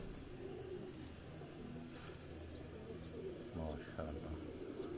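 Pigeons coo in a loft while a man shows off a prized high-flying pigeon's colouring, low burbling calls repeating softly behind steady background noise and talk.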